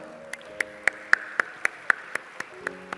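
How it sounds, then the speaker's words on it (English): Clapping at an auditorium inauguration comes as slow, evenly spaced single claps, about a dozen sharp hits close by with little else around them. "with a round of applause for all of you"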